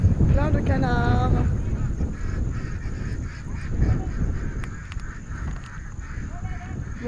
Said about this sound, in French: Plein de canards.